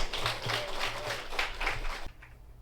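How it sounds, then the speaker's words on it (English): A small audience at a spoken word poetry event breaks into a brief round of applause, a dense patter of clapping that rises and fades over a couple of seconds before dropping away. "I need y'all to give a round of applause for my co-partner in this poem, Miss J"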